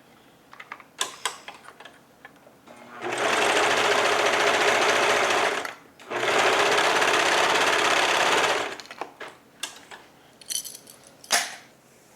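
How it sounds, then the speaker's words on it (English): Serger stitching sleeves onto a shirt made from a bedsheet: two sustained bursts of fast, steady machine whirring, each about three seconds, separated by a short pause and surrounded by small clicks and handling noises. "I'm gonna serge the sleeves on as well to both of these"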